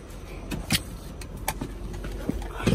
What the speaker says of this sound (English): Whoa, I don't think I like how that went in gear